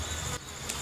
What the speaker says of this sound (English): Bees do bad to me.